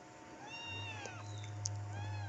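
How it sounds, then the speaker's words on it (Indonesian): A hungry cat waiting for food lets out several thin, high meows in quick succession, fairly faint and close, over a low steady hum in the room. "di sini kucing saya sudah lapar nih sudah menunggu-nunggu"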